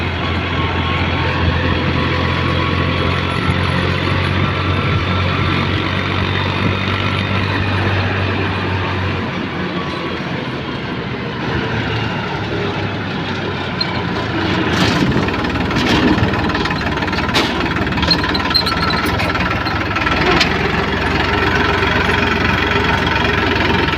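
A tractor engine runs steadily at close range, a continuous low rumbling drone with occasional rattles and clanks, on a trip to sell mustard at Harij, Gujarat.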